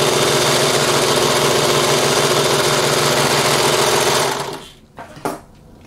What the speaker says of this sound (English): So let's overlock the sides